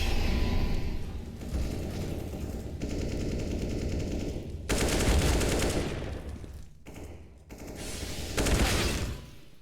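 Sustained bursts of SMG fire mixed with Glock pistol shots rattle through a competitive CS:GO-style esports match, loud dense volleys with brief gaps between exchanges.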